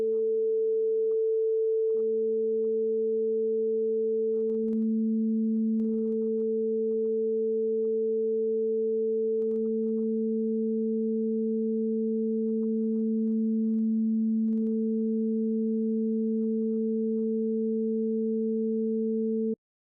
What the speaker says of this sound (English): We can also change the amplitude of the harmonics and get yet a different waveform.